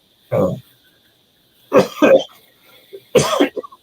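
Three separate bursts of harsh coughing from a person who inhaled a chemical, close by, with a faint steady high tone and quiet gaps between them.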